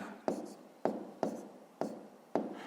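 Pen strokes scratch on paper as numbers are written into a table for a fifth-grade maths exercise, five short crisp taps with brief scrapes spaced about half a second apart, close and quiet.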